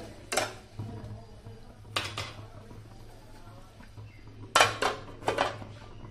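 A metal lid clanks onto a cooking pot of boiled chicken, several bright clattering knocks and scrapes spaced over a few seconds, close by against a low steady hum, no talk.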